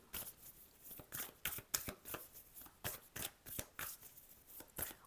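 Tarot cards shuffled by hand in a quick series of crisp riffling bursts, close and fairly quiet, with short pauses between them and no talk.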